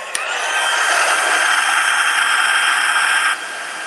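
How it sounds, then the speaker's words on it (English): Heat gun embossing silver powder makes a loud, steady blowing whir after a quick click at switch-on, holding constant and close for about three seconds before dropping to a quieter hum. "So now let's heat emboss the silver."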